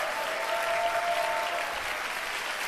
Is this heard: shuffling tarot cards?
no